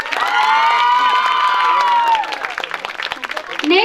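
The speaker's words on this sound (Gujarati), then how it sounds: "સંગીતાબેન માટે તાળીઓનો ગડગડાટ" A crowd at an honouring ceremony cheers and shouts loudly for about two seconds, then scattered claps and calls trail off into fainter crowd noise.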